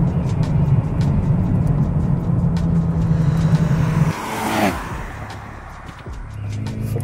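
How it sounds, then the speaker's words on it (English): A Mercedes-AMG GLB 35 SUV engine under throttle roars loud and steady, then drops sharply as it downshifts, followed by a quieter rumble that builds again. "It's got some downshifting going on."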